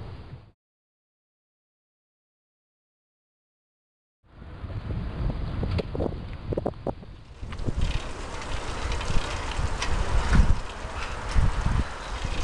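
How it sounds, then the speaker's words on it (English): Wind buffeting the microphone while cycling outdoors along a path through forest and past houses, starting after a brief silence and growing into a loud, continuous rushing roar with gusty swells. "It's a bit windy today"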